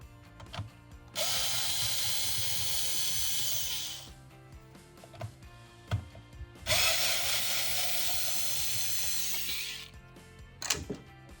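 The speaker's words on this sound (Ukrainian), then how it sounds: "знімаємо верхню кришку, відкрутивши два гвинти" Two bursts of a power screwdriver removing the two screws from the top cover of an ETIBREAK NBS molded-case circuit breaker, each whirring steadily for about three seconds, close and fairly loud, with small clicks and handling noises between.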